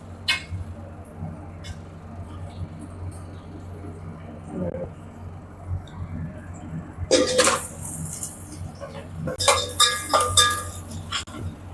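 A spatula stirs potatoes frying in a pan, mostly a low hum with a few scattered clinks early on, then bursts of metallic scraping and clanking against the pan near the end.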